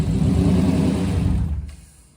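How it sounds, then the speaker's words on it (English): A Ford Mustang's Coyote V8 runs with a rough, uneven rumble close by for over a second, then cuts off abruptly and fades to near quiet. "Honestly, Coyotes do sound a little weird when they first start."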